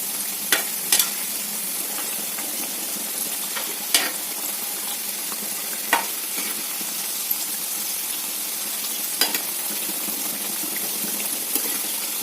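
Chapati rolls fry on a pan over high flame, giving a steady, bright sizzling hiss broken by a handful of sharp crackles and pops.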